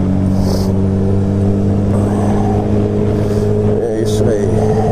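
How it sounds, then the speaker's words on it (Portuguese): A Honda CB1000R motorcycle's steady engine drone with low humming tones runs throughout, close and loud, with wind rush and faint voices mixed in as it rides along. "vamos que vamos dar uma voltinha na motoca"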